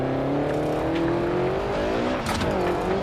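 A race car engine in a PS4 racing sim video game revs and climbs in pitch through a gear shift, loud and steady with a brief dip, with no talking.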